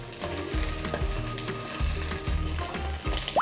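Mackerel fillet laid skin-side down in a hot pan beside ginger, frying over low heat with a steady close sizzle, broken by a few brief clatters and a low background hum, no voices.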